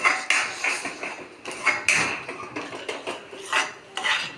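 A metal spoon stirs a thick sweet mixture in a cooking pan, with close, busy scraping and clinking strokes in an uneven rhythm, repeated over several seconds.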